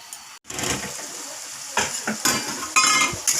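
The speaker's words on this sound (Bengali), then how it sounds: "এখন আমি ঢাকনা দিয়ে ঢেকে দিচ্ছি।" A metal lid is placed over a pot of pulao, with sharp clanks and scraping metal-on-metal contacts in several bursts over a quiet hiss, close and fairly loud.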